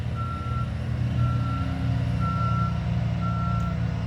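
A truck's reversing alarm beeps outside in a slow, regular series of four tones over a low, steady engine rumble, heard from a distance and unaccompanied by voices.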